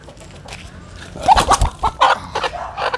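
A hen, a backyard chicken under treatment for mange, clucks in a burst of sharp, repeated calls close up, loud against faint background noise and with no voices.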